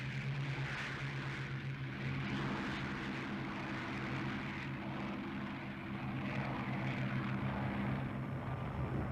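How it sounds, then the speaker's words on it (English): World War II aircraft engines in flight, a steady droning propeller roar with low harmonic hum, continuous and moderately loud, no voices. "30 minutes later, Ozawa launched a 76-plane strike."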